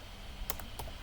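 A few quick keystrokes on a computer keyboard, three or four crisp clicks close by over a faint room hiss.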